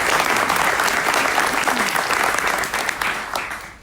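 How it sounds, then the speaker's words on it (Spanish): Conference audience applause for a speaker at a Latin American event, thick sustained clapping that tapers off toward the end of the clip. "Así que un aplauso para Fabio, por favor."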